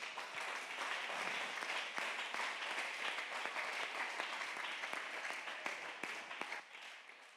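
A church congregation applauds together in steady, dense clapping that holds for several seconds, fairly loud and continuous, with no voice rising above it before it thins slightly at the end.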